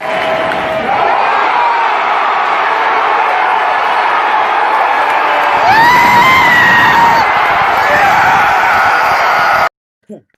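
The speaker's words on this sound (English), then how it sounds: "you got to hear my screeching like" A man screeches in excitement amid a roaring stadium crowd celebrating a Kyle Schwarber grand slam at a baseball game, the loud cheering and yelling sustained throughout before cutting off abruptly.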